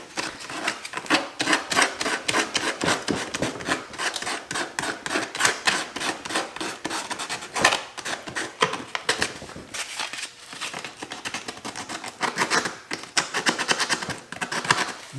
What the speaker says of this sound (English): This is some 100 Grit Sandpaper.